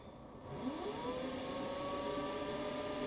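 A Warco WM16B milling machine motor starts up and settles into a steady, close whir with a rising tonal hum that then holds even, heard alone.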